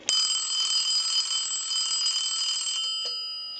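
Trimline telephone ringing during a ring cycle test, a bright, steady electronic warble that holds loud and close for nearly three seconds before cutting off, followed by a brief faint chirp.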